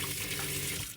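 Water gushes steadily from a tap inside a converted ambulance camper while the onboard pressure pump runs, a dense hiss of flow over a faint low hum, constant and close before trailing off at the end.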